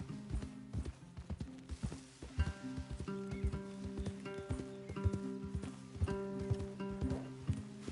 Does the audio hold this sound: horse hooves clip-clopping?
yes